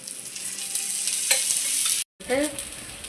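Spices tempering in hot oil with asafoetida give a bright, steady hiss with scattered crackles and the scrape of stirring. It is close and loud, breaks off briefly, then comes back with a fresh sizzle.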